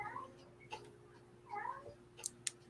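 A female cat gives soft, mumbling meows, a few short murmured calls close by in a quiet room, with faint ticking clicks near the end.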